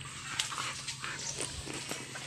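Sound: dog

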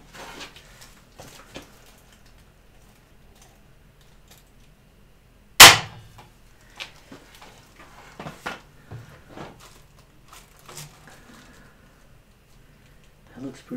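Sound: staple gun stapling kayak stringers

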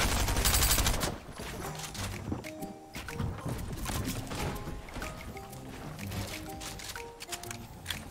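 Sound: gunfire in Fortnite video game

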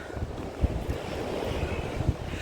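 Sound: sea waves and wind on the shore

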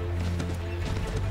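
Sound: horse hooves in Assassin's Creed III video game

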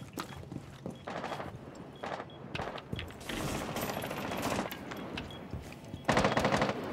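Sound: gunfire breaching windows in Rainbow Six Siege video game

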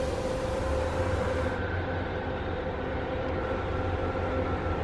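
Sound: passenger train riding on rails

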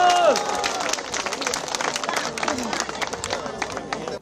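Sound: audience applauding

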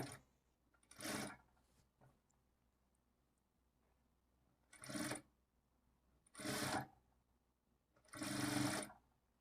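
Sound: sewing machine stitching thread piping on cloth

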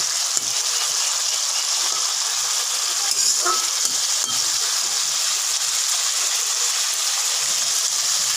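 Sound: fish curry simmering and sizzling in pan

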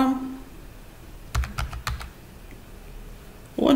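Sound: typing a 4-digit code on a computer keyboard

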